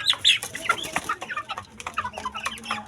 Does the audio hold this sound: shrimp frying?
no